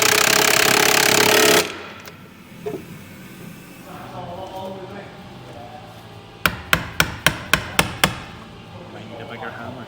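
Seven sharp metallic hammer blows ring out in quick, even succession on Land Rover Defender 130 suspension parts, close and loud after a stretch of quieter workshop noise.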